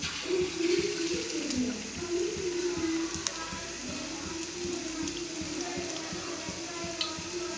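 Rice-flour and plantain snacks fry in hot oil with a steady, close bubbling hiss that runs throughout, while a voice murmurs faintly underneath.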